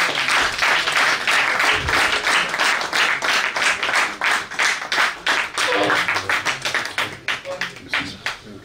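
An audience at a Punjab House, Lahore programme applauds to welcome Firdous Jamal, a loud stretch of crowd clapping that rises and pulses with distinct individual claps before thinning out near the end.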